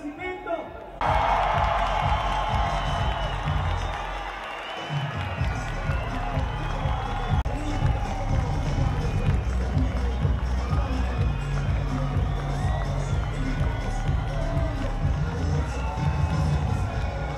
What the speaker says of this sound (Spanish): Un fuerte aplauso, enorme grito